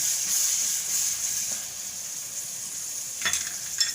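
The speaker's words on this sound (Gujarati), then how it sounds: "તો હવે આપણે એમાં ટમેટા નાખી દેવું" Tomatoes going into a hot pan of green onions and peas for a Gujarati shaak, with a steady bright sizzle throughout and a few louder stirring scrapes near the end.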